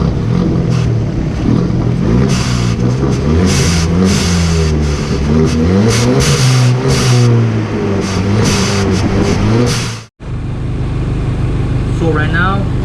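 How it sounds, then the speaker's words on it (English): Turbocharged Hyundai Elantra Sport with an SXTH Element charge pipe revs repeatedly at close range, the engine rising and falling in loud surges, then a brief cut and a quieter idle with a voice talking over it. "So we're gonna do some revs and see if the sound got different or it changed up a bit."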